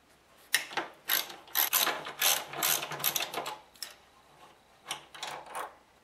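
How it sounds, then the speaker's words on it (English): A ratchet loosens the 12 mm bolt at the bottom of a Kawasaki Vulcan 800 motorcycle fuel tank, giving close, bright bursts of rapid clicking in several uneven strokes with short pauses between them. "what you want to do is remove the 12 millimeter bolt at the bottom of the fuel tank here"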